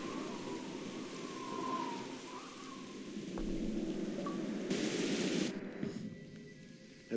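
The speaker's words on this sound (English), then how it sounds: "At least the rain's easing up." Steady rain hiss in the Jurassic Park video game, a continuous wash of falling rain with a low rumble and a few brief effect sounds layered in.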